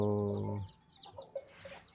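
Chickens, a hen with young chicks, cluck in short close calls after a brief strong harmonic sound at the start, with soft scattered clucks and chirps continuing through the rest.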